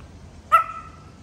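A single short, high dog yip or bark at a dog-friendly steakhouse in Singapore, clear but brief against a quiet background.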